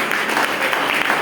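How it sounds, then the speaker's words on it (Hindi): A church congregation applauds at a worship service, giving a brief, dense burst of clapping from many hands, steady and fairly loud throughout. "इस बात पे तालियां होनी चाहिए।"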